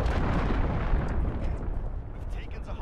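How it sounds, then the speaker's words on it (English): Predator missile explosion in Call of Duty Modern Warfare, a heavy rumbling blast that rolls and slowly fades over a few seconds, loud and low. "I'm on my predator missile."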